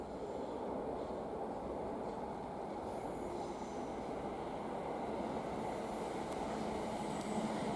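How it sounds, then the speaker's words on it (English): A Class 350 electric multiple unit passes through Rugby station on the West Coast Main Line, a steady close rumble of wheels on rail with faint squeal, continuous and loud throughout. "we have a Class 350 bound for Crewe"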